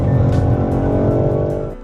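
A family wagon car driving fast around Zandvoort circuit, its engine a loud, harmonic-rich roar heard from inside, steady then easing off slightly toward the end, without talk.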